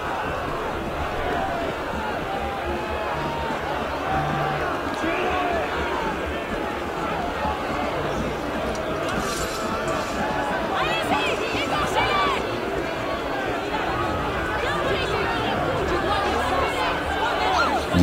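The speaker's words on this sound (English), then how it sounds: "Okay, big crowd of people" A big crowd of people in the video game Assassin's Creed Unity during the French Revolution, a steady murmur of chatter and babble with scattered shouts and footsteps running throughout, fairly close and even in level.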